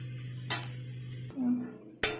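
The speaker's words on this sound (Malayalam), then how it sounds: "ഇനി ഇതിലേക്ക് നമുക്ക് തക്കാളി അരിഞ്ഞു വെച്ചിരിക്കുന്നത് ചേർക്കാം. നന്നായി ഇളക്കുക." Chopped tomatoes are stirred into a vegetable curry in a pan, with a few sharp utensil clinks against the metal and a brief soft scraping, quiet and close with no talk.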